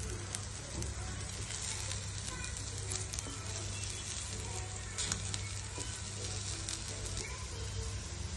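Aloo tikki patty frying in a hot pan, a steady close sizzle and crackle running throughout with occasional light scraping, loud and continuous with no talk.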